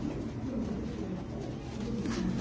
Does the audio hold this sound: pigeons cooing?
yes